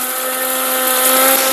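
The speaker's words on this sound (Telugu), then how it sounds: "చూసారు కదా, మిక్సీ పట్టేస్తాను." A kitchen mixer grinder whirs loudly and steadily as it grinds cooled fried spices for a Chennai-style chicken fry, a close, continuous high-pitched motor drone with no break and no voices.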